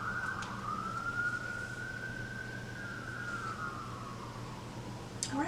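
A single emergency siren wails in one long steady rising and falling sweep, moderately distant over constant low traffic hum.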